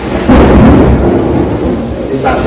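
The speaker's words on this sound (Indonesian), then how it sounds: "Disaksikan oleh petir yang menyambar." A loud thunder clap erupts during a thunderstorm, its deep rumble swelling suddenly and rolling on for a couple of seconds before a second burst starts at the end.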